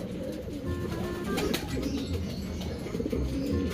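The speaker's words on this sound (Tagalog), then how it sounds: "So eto po yung ibon na bumalik." A racing pigeon that has just flown home from Catanauan, Quezon, coos softly in a loft amid a dense, continuous bed of other bird chatter and background noise, with no speech.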